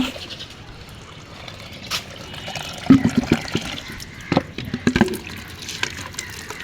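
Water poured onto potted plants in a rooftop garden with lemon and chili plants, soft trickling and splashing that rises in a few brief bursts, fairly close, with little talk.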